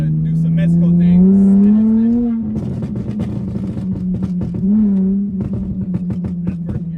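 A hoodless car's engine revs hard as it accelerates, its pitch climbing then dropping abruptly at the first gear change, with loud people talking and exclaiming over it.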